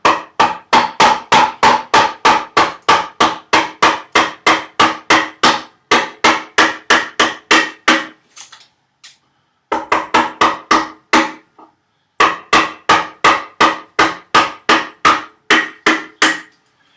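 A chisel being struck with a mallet to split the cheeks of a wooden tenon on a workbench build, delivering loud, rapid, evenly spaced blows in long runs, broken by two short pauses.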